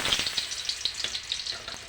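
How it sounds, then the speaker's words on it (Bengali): Urad dal and ash gourd bori fry in hot oil in a kadai, giving a steady, fairly close sizzle with small popping crackles and no talk. "এই দেখো কড়ার তেলটা গরম হয়ে গিয়েছে, এবার আমি বড়িগুলো দিয়ে দেবো তেলের মধ্যে।"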